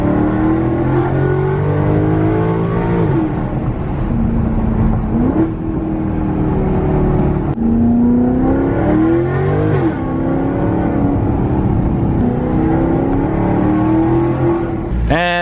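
A C5 Corvette V8 revs hard and repeatedly, its loud engine note rising and falling in pitch through several climbs and drops that fill the whole stretch.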